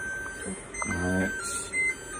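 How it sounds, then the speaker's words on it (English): A kitchen timer beeps in a home kitchen, a short electronic tone sounding over steady background hum, with faint clatter around it. "off goes the timer"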